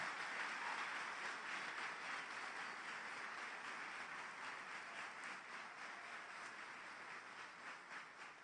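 A church congregation applauds loudly for the Lord, a dense, steady wash of many hands clapping at once that fills the room without pause and fades only slightly toward the end, with no voices over it.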